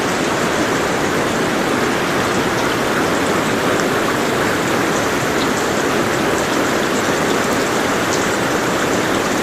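Main waterfall of Dampalit Falls in Barangay Dalaki, Los Baños, Laguna, gives a steady, dense roar of falling water that holds unbroken and loud from start to finish, with no voices.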